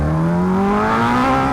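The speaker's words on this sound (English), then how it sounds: "that was like not even a quarter throttle in first, and the bike already wanted to come up like crazy" A Kawasaki H2 motorcycle pulls hard in first gear, its engine note climbing steadily in pitch with a strong whine, loud and close throughout without any voices.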